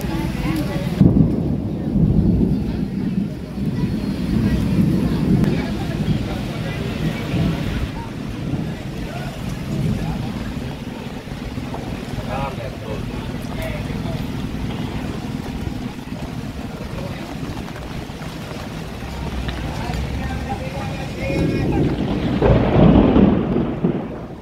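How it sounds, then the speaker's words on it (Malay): Heavy rain and rumbling storm noise with gusty wind buffeting the microphone, loud and continuous, while people talk intermittently nearby at the Bangsar Ramadan bazaar in Malaysia. "Hujan."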